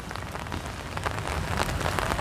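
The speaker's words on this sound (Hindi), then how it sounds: "देख सकते हैं पूरा बारिश ही बारिश हो रहा है।" Heavy rain falling steadily outdoors, a dense continuous patter on surfaces, close and even, with no voices.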